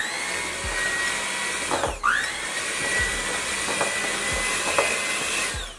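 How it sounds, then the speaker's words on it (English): An electric mixer whirs through Kodiak Cakes batter with butter, a loud steady motor whine up close that briefly dips and recovers in pitch as the beaters meet resistance, with no talking. "We're just gonna mix this up a little bit."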